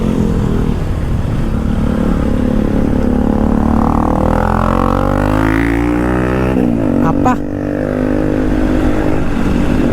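A Bajaj Dominar motorcycle passes close by on a road in Yercaud, its engine note rising in pitch and swelling loudly before dropping away, over a steady background of outdoor noise.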